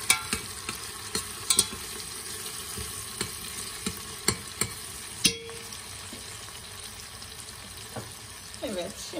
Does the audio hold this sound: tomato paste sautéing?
yes